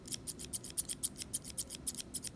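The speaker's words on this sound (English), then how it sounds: "Fiskars, the only way to go for scissors." Fiskars scissors snipping through material in a quick, even rhythm, roughly fifteen crisp close-up cuts in succession with nothing else heard.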